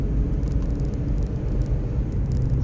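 A 2004 Ford Explorer drives along with a low, steady engine rumble and road hum heard from inside the cabin; no distinct gear change stands out in this short stretch.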